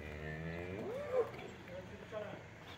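A cow on a cattle farm gives a single drawn-out moo, rising then falling, fairly close against a quiet rural background.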